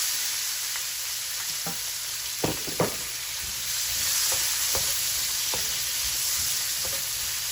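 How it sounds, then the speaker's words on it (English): Onion and green pepper hit hot curry-infused oil with a steady, close sizzle, broken by a few sharp clacks and scrapes of a spoon stirring the pan. "I'm gonna add my onion and green pepper"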